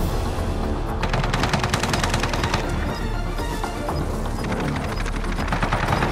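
Rapid automatic gunfire rattles through a Call of Duty Warzone match in Verdansk, loud and continuous over dense game noise and booms, with sustained bursts filling the whole stretch.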